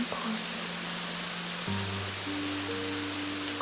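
Rain falls steadily on a Tokyo night, a dense, even hiss of drops on surfaces that runs unbroken throughout, with low sustained tones humming beneath it.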